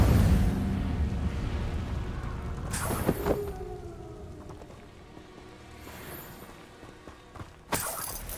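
An Incendio fire spell fires off in Hogwarts Legacy on Xbox Series X, sharp crackling bursts and shattering impacts over a rumbling bed, with two or three strong hits spaced across the passage.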